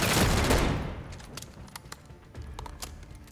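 Gunfire in Call of Duty Modern Warfare III: a loud blast at the start decaying over about a second, followed by scattered sharp shots and clicks at varying distances, with no talking.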